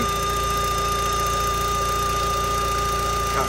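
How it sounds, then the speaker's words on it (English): An Audi TT engine idling smoothly with a steady, even tick-over, a constant close mechanical hum and hiss with no rev fluctuation, heard alone without talk. "The engine sounds so much smoother. The tick over is so much smoother."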